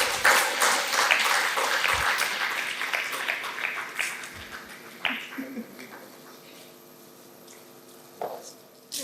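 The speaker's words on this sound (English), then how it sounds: "Please give a big round of applause again." An audience at a book release claps in a room, the applause starting strong and thinning out into scattered claps that fade away, with a few voices faintly underneath.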